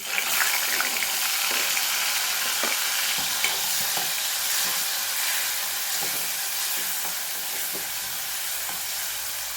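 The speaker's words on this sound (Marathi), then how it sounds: "आता ह्याच्यामध्ये आपण टोमॅटो टाकून घेऊ" Tomatoes sizzle and fry in a hot pan, a steady bright hiss with scattered scrapes and clicks of stirring, close and continuous with no voices.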